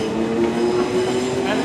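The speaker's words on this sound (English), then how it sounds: "Coming in now is a 377 for London Victoria" A Class 377 electric train pulls into Clapham Junction, producing a loud, continuous rolling rumble with a steady tonal whine from wheels and motors, close by throughout.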